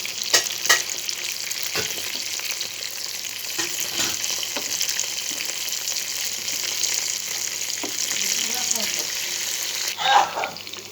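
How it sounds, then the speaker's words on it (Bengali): Chicken tandoori cooks in a covered pan over medium heat, giving a steady broadband sizzle with scattered clinks and bubbling pops, a louder burst near the end. "এবার একটা ঢাকনার সাহায্যে আমি ঢেকে প্রায় 10 থেকে 15 মিনিট আমি সেদ্ধ করে নেব"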